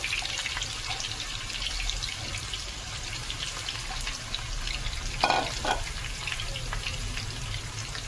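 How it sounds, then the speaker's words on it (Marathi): Steady, moderate sizzling of onions frying in oil for veg biryani, a constant crackling hiss with occasional brief spikes, no voices. "तर इकडे आपण कांदा फ्राय करून घेणार आहोत"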